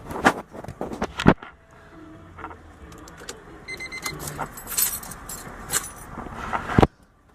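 Car keys jangle near the ignition of a 1996 Honda Civic as it is switched off, with a sharp metallic rattle at the start, scattered light clinks and shuffling in the cabin, and a final jingle and click before quiet.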